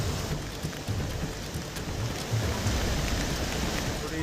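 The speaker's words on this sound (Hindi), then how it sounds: "जोरदार बारिश हो रही है" Heavy monsoon rain pours down in Dharchula, Pithoragarh, a dense, continuous hiss of downpour that stays loud and steady throughout, with low rumbling underneath and no voices.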